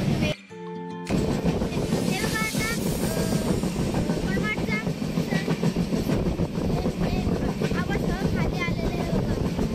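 A Gadchiroli-bound passenger train rolls steadily along the rails with a continuous rumble and rhythmic clatter, heard from on board at close range, while voices talk faintly underneath.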